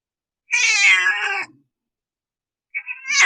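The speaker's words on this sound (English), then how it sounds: "his meow now sounds kind of weird" An old male cat meowing after an emergency vet visit, with a strained, odd-sounding voice: one long loud meow close by, a pause of silence, then a second meow beginning.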